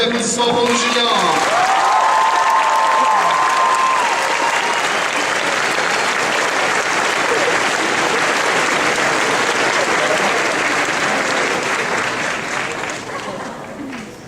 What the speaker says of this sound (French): Encore une fois, une bonne applaudissement pour nos juniors.